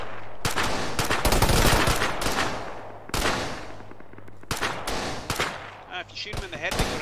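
Irregular gunfire crackles through an Arma 3 firefight, sharp single shots and short bursts at close and middle distance, with someone speaking over the shooting.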